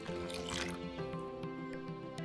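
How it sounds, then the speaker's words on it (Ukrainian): Hot water at about 50–60 °C poured from a container into a well in flour with oil for dumpling dough, a close trickling pour with drips and a soft wet squish, fading to scattered drops. "вливаємо туди 180 мл гарячої води температурою приблизно 50-60 градусів"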